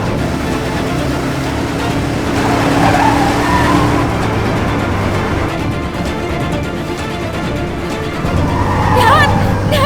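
A car skids with tires squealing during a tense chase in a Turkish drama, a loud sustained screech with engine roar beneath it, while voices shout over the noise.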